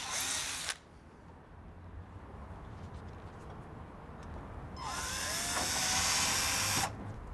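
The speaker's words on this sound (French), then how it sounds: "Commence toujours par effectuer un pré-perçage avant de visser." A power drill pre-drills holes before screws go into the trim of a privacy fence, with two close whirring bursts, a short one at the start and a longer one later, separated by quiet outdoor background.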